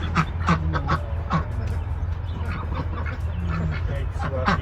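A 48-week-old Jumbo White Pekin duck quacks close by in a series of short, raspy calls over a steady low hum, and a person speaks softly in between.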